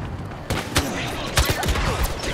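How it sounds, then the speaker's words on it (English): Video game gunfire crackles in scattered bursts and single shots over a constant background din of battle. "Who's shooting me? Airstrike incoming."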